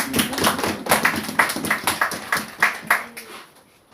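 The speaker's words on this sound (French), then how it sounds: "Applaudissez pour vous-même alors" A small group claps in a loose, uneven rhythm for a few seconds, the claps sharp and close before tapering off.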